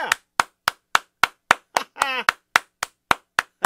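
Single sharp hand claps sound in a slow, fairly even series, about a dozen in all, recorded at home for a homemade crowd effect, with one brief vocal whoop in the middle.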